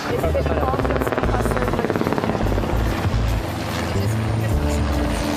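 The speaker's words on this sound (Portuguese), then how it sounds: "Tem vários helicópteros passando o tempo todo para lá e para cá." Helicopters fly over Jerusalem, their rotors making a loud, continuous, rhythmic thudding that dominates throughout, with a slight dip in intensity partway through.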